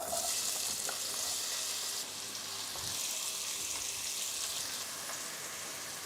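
Steady sizzling of onion and garlic frying in a hot pot, with a few faint clinks and stirring sounds, no talking.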